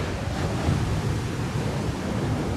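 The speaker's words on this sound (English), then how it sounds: "There's like a little tremor in this balcony every time a big wave hits." Ocean waves crashing and surging below a balcony, a steady loud roar of surf with wind buffeting the microphone and a deep rumble throughout, no voices.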